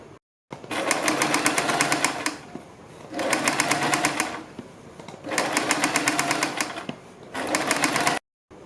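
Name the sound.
sewing machine stitching kurti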